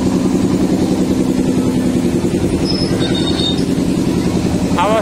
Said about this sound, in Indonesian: Awas ya, keretanya mau melaju.